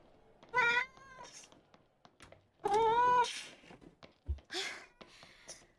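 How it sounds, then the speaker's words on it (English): A kitten gives two loud, drawn-out meows separated by a pause, close to the listener, with softer shuffling and small noises between calls. "Such a noisy kitten."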